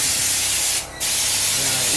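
A steady, loud spray hiss of rubberising coating applied to the welded body of a 1938 Jaguar SS drophead, with a brief pause midway.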